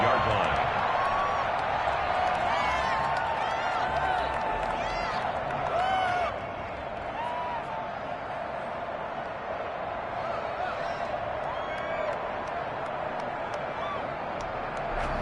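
Stadium crowd noise in the Madden football video game, a broad steady roar with scattered cheers and whistles, louder at first then settling slightly quieter, with talk over the top throughout.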